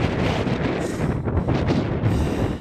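Wind buffets the microphone on an open hilltop walk in the Malvern Hills, a loud, rough, steady rumble with gusty swells and no voices.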